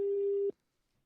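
Telephone busy signal: a steady, loud single tone lasting about half a second, then cutting off to near silence.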